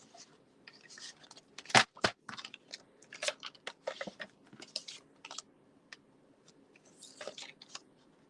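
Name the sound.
cutting paper for a card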